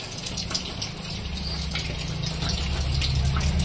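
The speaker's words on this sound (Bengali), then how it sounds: "পৃথিবীকে শীতল করবার জন্য অবিরাম ধারায় এই বর্ষার জল পতিত হয়ে যাচ্ছে" Heavy monsoon rain pouring down without a break, a dense, steady rush of falling water that swells slightly louder toward the end, heard alone.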